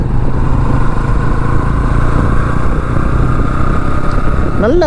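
The engine of a 2025 Honda CB Hornet 125 motorcycle keeps up a steady, loud beat during riding, with constant wind rumble and a brief rising whine at the end.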